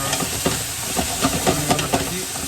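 Goya (bitter melon) stir-frying in a pan for chicken kimchi, a steady sizzle with repeated scraping and stirring knocks at an irregular rhythm, close and moderately loud, with no talking.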